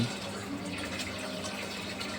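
Water pours steadily into a fish tank, a constant close splashing and trickling stream with no voices.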